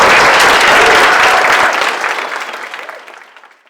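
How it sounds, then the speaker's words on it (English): A crowd claps loudly, sustained applause that gradually thins and fades out toward the end. "I'd like everyone to give it a huge round of applause"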